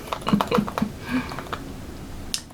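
A makeshift makeup applicator being twisted and tapped gives a quick run of light, dry clicking and tapping sounds, close and fairly quiet, ending with a brief sharp scrape.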